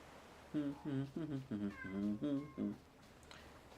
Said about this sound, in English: You can probably hear my cat.